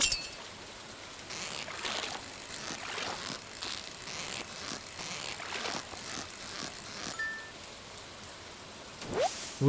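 Rain in the video game Stardew Valley, a steady pattering with faint clinks, soft and continuous, ending with a brief sharper sound.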